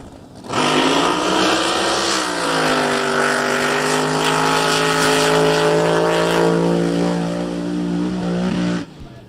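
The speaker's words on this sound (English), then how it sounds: "It hit the rev limiter out there." A drag racing hot rod engine screams at high rpm against its rev limiter for about eight seconds, a loud steady harmonic drone with a slight pitch rise early on, then cuts off abruptly.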